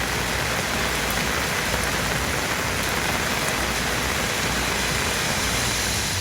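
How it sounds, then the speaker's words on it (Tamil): Heavy rain pours steadily in Sendurai, Ariyalur district, a dense continuous hiss of drops striking surfaces with no pauses or voices. "அரியலூர் மாவட்டத்தில் செந்துறை உள்ளிட்ட பகுதிகளில் கனமழை பெய்ததால் வெப்பம் தணிந்து குளிர்ச்சியான சூழல் நிலவியது."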